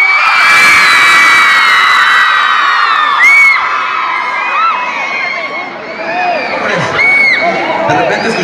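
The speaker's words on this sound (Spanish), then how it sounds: "quiero escuchar un grito de las mujeres" Women in a live concert audience shout and whoop together, a loud high-pitched crowd roar that swells, dips midway and rises again with scattered screams and cheers.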